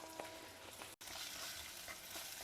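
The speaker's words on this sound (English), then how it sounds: "Just roast it in the oil for 2 to 3 minutes." Homemade sambar powder roasting in oil with curry leaves, a faint, steady sizzle with light stirring ticks and a brief drop-out midway.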